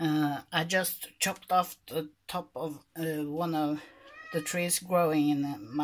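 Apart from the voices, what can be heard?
cat meowing, complaining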